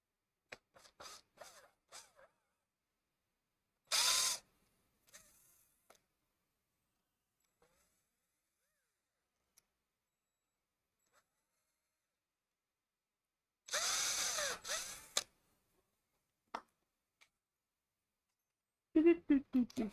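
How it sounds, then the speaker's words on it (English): A power drill boring a pilot hole in wood for a small wooden gift, two short bursts of whirring motor separated by a long quiet gap, with light tapping and handling sounds around them. "I need to put a little pilot hole into there."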